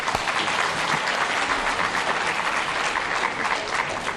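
A conference audience at the Uganda-China Economic Investment and Trade Cooperation Forum 2017 applauds the panelists with dense, sustained clapping that fills the room evenly from start to end.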